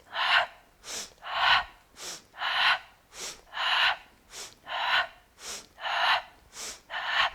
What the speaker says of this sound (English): So take a breath in, exhale,